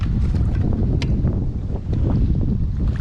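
Steady wind buffets the microphone outdoors on a lake, a continuous low rumble with gusty fluctuations and faint water sounds, no talking.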